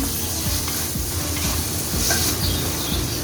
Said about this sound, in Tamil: சேர்த்து நல்லா கிண்டி விட்டுருவோம்.